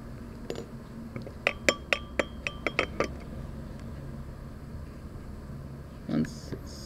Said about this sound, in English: Add one drop, I'll give it a little stir